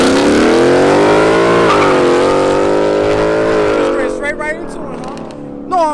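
A street-racing car in Mexico roars loud and close, its engine pitch climbing and holding through hard acceleration before fading into a rougher, uneven drone near the end, then a brief surge returns.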